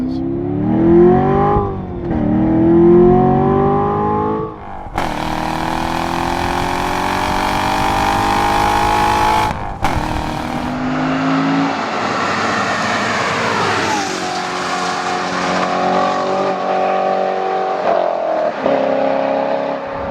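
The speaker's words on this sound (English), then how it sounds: "Notice the exhaust. This is the loudest, lowest restriction exhaust mode there" A 2014 Chevrolet Corvette Stingray Z51's exhaust, in its loudest mode, roars loudly as the engine revs and accelerates, with sustained rising and falling drone and crackling bursts throughout.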